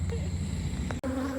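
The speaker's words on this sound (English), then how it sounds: "I just wanted to show you what it was like with angry bees" Honeybees buzzing steadily around an open backyard hive during an August inspection, a dense insect drone close to the microphone that runs unbroken except for a brief cut near the end.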